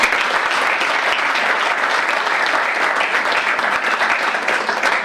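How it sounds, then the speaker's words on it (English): Seminar attendees at a FIBA Europe youth basketball event give sustained applause to welcome a speaker, loud dense clapping from a sizable indoor crowd lasting several seconds. "we can clap"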